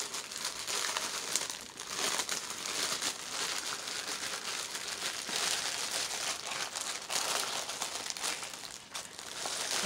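Double-sided decorative paper crinkles and rustles steadily and up close for the whole stretch, a dense, continuous crackling handled without talk.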